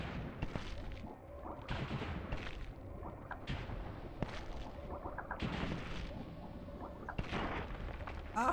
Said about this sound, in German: das sind so Explosionsdinger